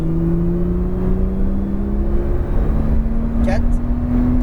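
A Porsche 911 Turbo S accelerates on a track at La Ferté-Gaucher, its engine note climbing steadily in a loud, close cabin drone while people talk over it.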